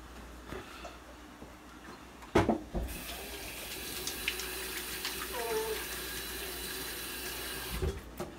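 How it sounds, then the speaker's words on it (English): A kitchen tap runs steadily while hands are washed under it, a close, continuous hiss of water with a few knocks and clatters at the start and end. "I'm gonna wash my hand"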